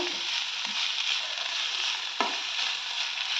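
Cabbage rice mixture being stirred in a hot pan, a continuous sizzle with a sharp scrape of the spoon partway through, close and steady.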